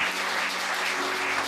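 An audience bursts into dense, steady applause, many hands clapping together in a continuous wash of sound with no talking over it.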